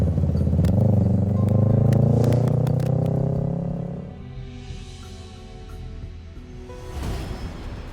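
A motorcycle engine swells loudly as it rides past close by, then fades away, leaving softer traffic and street ambience with a faint rise near the end.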